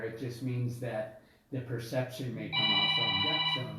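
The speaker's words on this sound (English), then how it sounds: "That's my phone." A mobile phone rings with steady repeating tones that start partway through and continue beneath ongoing talk between people.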